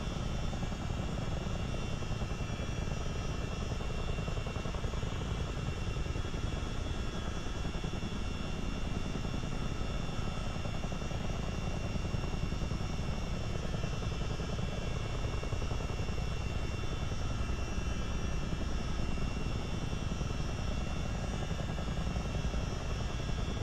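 A simulated CH-47D Chinook tandem-rotor helicopter in Microsoft Flight Simulator gives off a steady, dense engine and rotor drone with a constant whine layered over a low rumble, holding at one loud level for the whole stretch with no speech.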